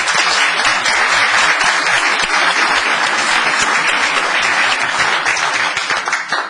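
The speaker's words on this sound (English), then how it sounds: "Let's give a round of applause for this one." An audience at a town council meeting claps steadily for about six seconds, a dense, loud applause that fades slightly at the end, with no speech over it.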